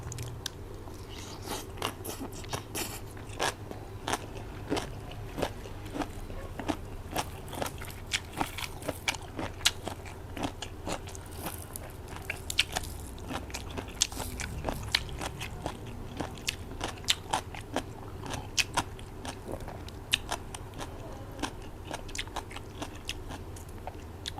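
Crisp, crunchy bites into a fried snack during a spicy papaya salad eating session, with close, rapid crackling crunches that repeat steadily throughout, no talking.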